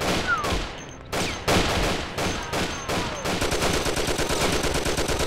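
Gunfire in the game Mafia, with a Thompson nearby: several loud separate shots and short bursts give way to a long, fast, steady stream of automatic fire.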